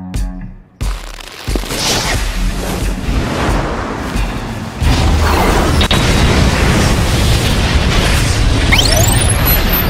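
A heavy boom from a super punch impact in Roblox Strongest Battlegrounds bursts in abruptly, then swells into a loud, sustained roaring rumble that surges stronger again midway and carries on to the end.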